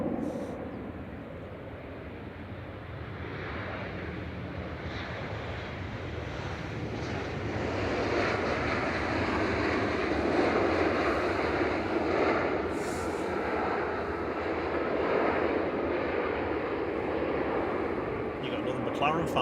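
Ryanair airliner arriving from Dublin and touching down at Manchester Airport, a steady broadband engine and roll-out roar that swells midway, with wind buffeting the microphone and occasional talk underneath.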